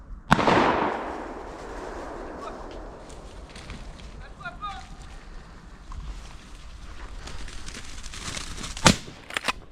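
A Blazer R8 rifle in 9.3x62 fired during a driven wild boar hunt outdoors: one loud, sharp shot with a long decaying echo, then a quieter outdoor stretch, and a second crack near the end, with speech in between.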